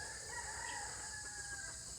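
A rooster crows faintly in the distance, a drawn-out call over quiet outdoor background hiss, with no talking.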